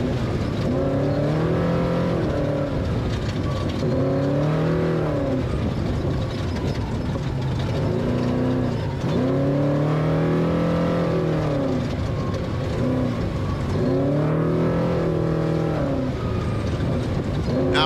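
An off-road race vehicle in a desert rally on the Baja stage from San Ignacio to Loreto revs hard, with several rising engine sweeps in a repeating pattern as it climbs through gears over a constant rumble.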